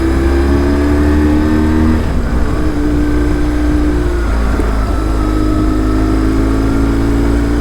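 A 23-year-old BMW R1150 GS adventure motorcycle riding on an open road in fair weather, its engine a loud, constant close hum with shifting tonal whine and heavy wind rush.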